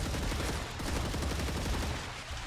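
Rapid automatic gunfire in the sci-fi game StarRupture, a dense continuous rattle of shots that is loud and close, filling the whole moment without pause or talking.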